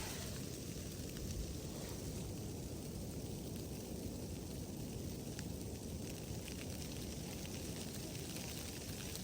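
Snow falling on a tent along the Appalachian Trail near the Georgia–North Carolina border: a faint, steady hiss of soft pattering across the fabric, continuous and unbroken, with no talk.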